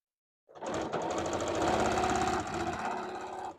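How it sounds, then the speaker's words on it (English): A sewing machine runs in one continuous, loud burst of rapid stitching with black thread on a qaspeq vest, starting abruptly after a brief silence and holding steady to the end. "I'm going to sew this down."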